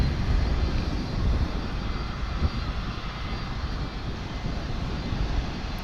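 A Boeing 757 airliner at DFW airport roars steadily with broad, sustained engine noise, loud and continuous with no talk over it.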